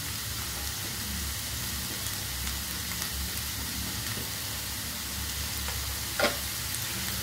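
Banana stem pieces fry in a pan with a steady broadband sizzle throughout, close and even, with one brief sharper crackle or clink near the end.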